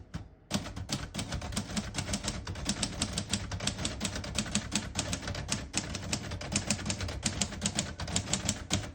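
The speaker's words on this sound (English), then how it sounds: "type a sentence in red on the next line" Rapid, steady clacking of keys on a 1955 Royal Quiet De Luxe manual portable typewriter, struck one after another close by in an even rhythm with no talking.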